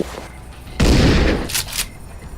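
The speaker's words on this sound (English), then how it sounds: "Take this handgun, shoot him!" Handgun fire in the Dead Age video game, a burst of loud close shots with a booming low impact, followed by a couple of sharper cracks before it fades to a low game background.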